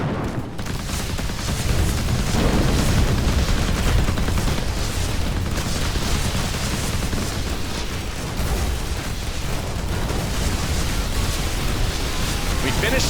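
Enemy ships firing in the space combat game Between The Stars, a loud sustained roar of overlapping shots and blasts that runs without a break throughout.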